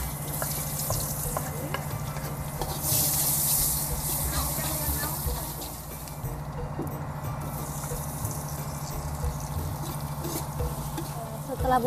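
Sliced spices sautéing in a pan for an Indonesian oseng tauco with green and red tomatoes and red bird's-eye chilies, a steady close sizzle and frying hiss with stirring scrapes, continuous throughout.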